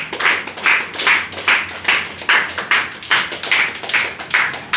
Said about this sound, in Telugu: మీరందరూ కూడా ముందుగా మీ యొక్క చప్పట్ల ద్వారా వారికి వివాహ వార్షికోత్సవ శుభాకాంక్షలు